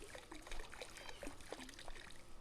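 Water sloshes and gurgles inside a plastic pool chemical bottle, a faint, close run of quick liquid glugs and splashes.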